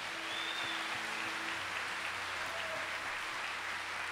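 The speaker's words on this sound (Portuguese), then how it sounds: "Vamos aplaudir a palavra de Deus." A church congregation applauds the word of God during a sermon, steady, even clapping from a large group that fills the room at a constant level without pause or voices.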